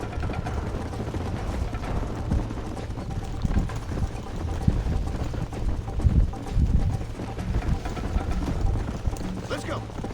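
Horse hooves pounding at a gallop in Red Dead Redemption, a fast irregular clatter with creaking tack and gear, under excited shouting voices throughout.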